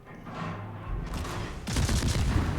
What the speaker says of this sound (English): He seems to be firing his guns